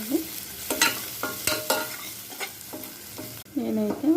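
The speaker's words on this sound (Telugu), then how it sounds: "ఆనియన్ వేగాయో లేదో చూద్దాము." Chopped onions sizzle and fry in a pan with ginger and turmeric for a Telangana-style small fish curry, a steady close crackle broken by several scraping stirs of a spoon at regular intervals.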